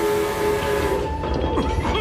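Steam locomotive from the Trainz game, with a loud, close rush of steam and a sustained whistle tone that fades partway through, followed by rattling, clanking motion.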